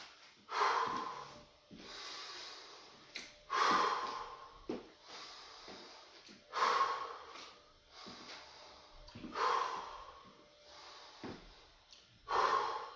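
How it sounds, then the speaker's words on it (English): Several people taking deep breaths during a rest between workout rounds, with about five slow, loud, close inhale-and-exhale cycles evenly spaced, each a heavy rushing breath. "Take those 5 breaths now."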